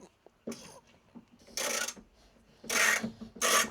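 A cheap ratchet wrench undoes bolts inside an ambulance, giving short rasping clicking bursts of ratcheting separated by pauses, close and fairly loud with no talking.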